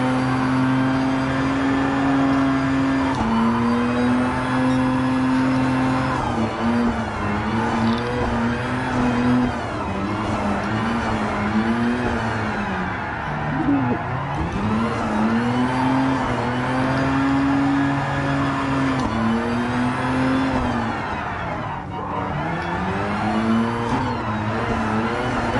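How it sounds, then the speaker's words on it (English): A Gran Turismo Sport car drifting in fifth gear with wheel spin, its engine note rising and falling in long revving sweeps alongside sustained tire squeal, loud and close with no talk over it. "we've got the wheel spin, which tells us it's got the power to slide the wheels in fifth"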